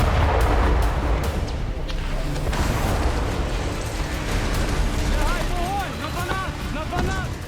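Artillery and gunfire from a Ukrainian special forces assault on Russian positions near Donetsk, a dense, continuous roar of booms and bursts under a Hindi-speaking narrator.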